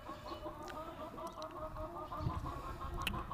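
Hens clucking in short, soft bursts over a low background hum, faint and at moderate distance while being put out in the sun.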